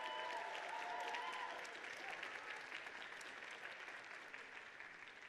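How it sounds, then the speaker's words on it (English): Audience at Northern Vermont University - Lyndon's 111th commencement ceremony applauding the faculty, a steady dense wash of clapping throughout, slightly louder at the start and easing off, with faint tones early on. "Please give them a warm round of applause."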